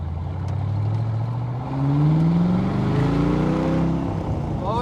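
A 1965 Corvette drives along with a close, loud engine drone whose revs climb steadily as the car accelerates, with no talk over it.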